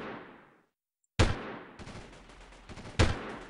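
Gunfire in the Delta Force 2 video game: a fading tail, a brief silence, then two loud sharp shots with a rattle of fire between them.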